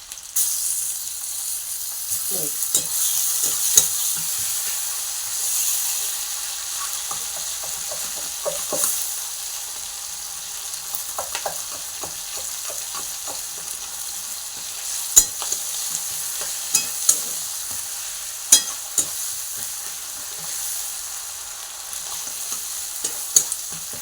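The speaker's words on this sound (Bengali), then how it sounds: "এবার দেব তেল কটাটা এটা ফাটবে মাঝখান থেকে" Pieces of fish fat fry in oil in a pan, for a fish-fat and brinjal dish, with a steady close sizzle throughout and sharp scattered pops and spits, especially in the second half.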